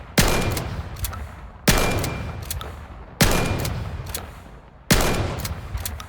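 A pump-action shotgun in the video game Vail fires four loud, booming shots, each roughly a second and a half apart, with a short rack-like click between blasts.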